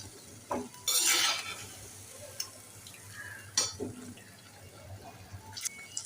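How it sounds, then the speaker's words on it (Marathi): Scraping and stirring of pressure-cooked mutton in a pan with light sizzling, broken by a few louder clanks and scrapes of the spoon against metal, close up. "आता हे व्यवस्थित परतून घेऊया"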